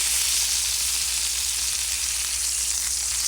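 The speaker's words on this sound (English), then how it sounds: "I don't want to fry them too hard, just to make sure they're completely done" Chicken pieces for chicken parmesan frying in a pan, a steady close hissing sizzle that holds evenly throughout, with no voices.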